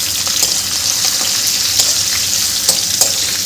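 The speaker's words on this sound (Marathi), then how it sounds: "मिरच्या घालून घ्यायच्या आहे याच्यामध्ये आणि छान परतून घ्यायचं आहे" Green chillies and peanuts sautéing in hot oil in a pan, a loud continuous close sizzle with light stirring scrapes and crackles throughout, no voices.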